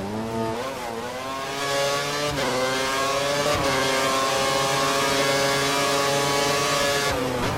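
A Formula 1 car in F1 2013 at Abu Dhabi turns into the pit lane, its engine a steady, close, buzzing drone with a few quick pitch dips and shifts as it slows, alone without voices.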